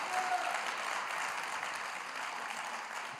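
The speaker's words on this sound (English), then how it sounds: "Can we give our newcomers, visitors, a round of applause, too?" Church congregation applauding newcomers and visitors during a Sunday service, a steady, even wash of clapping held at moderate volume for the full span, somewhat distant and roomy, with no voices standing out.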